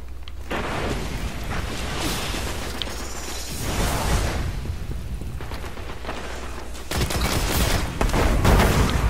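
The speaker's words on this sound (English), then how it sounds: "What are you shooting at him, Mike?" The Murmur, a legendary fusion rifle in Destiny, fires in a multiplayer match, with repeated heavy bursts and booming impacts in a loud, continuous din of game combat.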